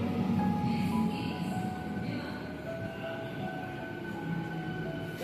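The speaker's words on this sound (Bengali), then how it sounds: "এই ট্রেনটা হচ্ছে বর্ধমান ব্যান্ডেল লোকাল, এটা টাইম 9:22, ট্রেন মেমারিতে ঢুকছে 9:35" A Bardhaman–Bandel local train pulls into Memari station, a steady rumble of rolling wagons and rail noise with faint tonal hums, continuous and fairly close throughout with no voices.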